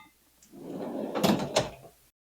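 A drawer in a rolling metal toolbox slides open or shut, a soft rumbling glide topped by two sharp metallic clacks near the end, close and alone.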